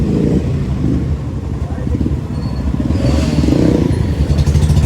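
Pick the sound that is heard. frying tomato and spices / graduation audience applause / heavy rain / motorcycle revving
motorcycle revving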